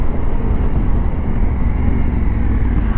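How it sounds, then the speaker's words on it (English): A Honda Africa Twin motorcycle engine roars loud and close while riding. Its dense low rumble holds steady and is almost drowned by rushing wind. "Wow, amazing downshifts."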